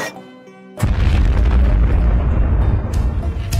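A thousand cannon bullets fire at Zomboss in a video game, a sudden loud boom followed by a continuous rumbling barrage of explosions that stays heavy until the end.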